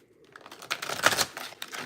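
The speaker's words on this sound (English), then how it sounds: "One more shuffle." A brief flurry of papery, clicking riffle as cards are shuffled up close, rising to a quick burst and fading.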